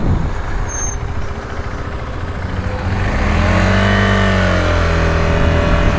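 A 2020 KTM 390 Adventure motorcycle's engine drones steadily while riding, with wind rush throughout and the pitch rising and falling through shifts in the second half, close and loud.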